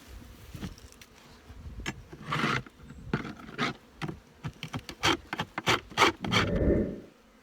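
A hive tool scrapes and rasps across a wooden beehive bottom board in a run of short, uneven strokes, close and fairly loud, with a few longer drags and faint bee buzzing around.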